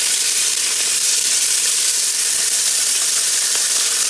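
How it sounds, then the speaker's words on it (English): Pork sizzles steadily in olive oil in a pot, a constant close hiss of frying that runs without a break and with no talking. "then just fry it like you do bacon"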